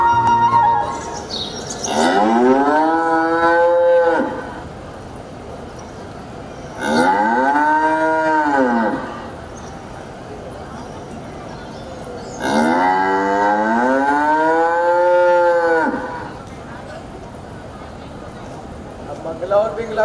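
Three long, drawn-out cow moos with rising and falling pitch sound loud and close, spaced apart by quiet gaps, during an inter-school stage performance about Krishna calling the cows beneath a kadamba tree.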